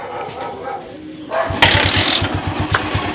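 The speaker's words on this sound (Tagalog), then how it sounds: "Pagka ganun ang andar mga pre ng motor niya, magaspang na" A Bajaj CT 100 motorcycle engine with a suspected bearing fault runs roughly, its uneven pulsing throb growing louder and harsher partway through, with brief voices in the background.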